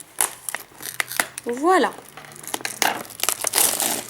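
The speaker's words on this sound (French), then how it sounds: "je m'accompagne de ma paire de ciseaux et on va voir tout de suite ce qu'on peut avoir" Scissors snip and crinkle through the plastic packaging of a Pokémon collector box, close crackling cuts and crumpling under someone speaking French.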